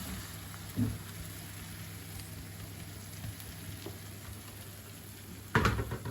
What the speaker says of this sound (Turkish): Bu şekilde kavuruyorum biraz.